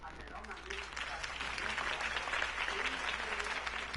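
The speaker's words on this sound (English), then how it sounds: "could have heard that applause" A crowd in a video game applauds steadily, the clapping swelling and holding at a moderate level with scattered cheers mixed in.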